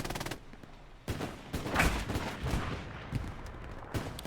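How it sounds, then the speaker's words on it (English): Video game strafing run gunfire, heard as scattered sharp bursts and booming impacts spread across a few seconds at moderate loudness, with no talk over it. "Strafing run coming in from the LI side"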